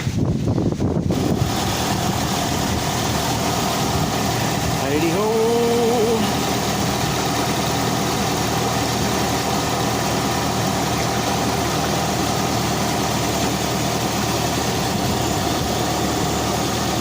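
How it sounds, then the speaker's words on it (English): Turbocharged engine of a 1989 Plymouth Voyager idling steadily throughout with wind noise across the microphone, while a voice speaks a brief exclamation near the start. "So we'll start the engine and start filling it up."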